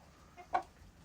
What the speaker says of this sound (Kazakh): Қазіргі тауықтардың жағдайы осындай болып жатыр.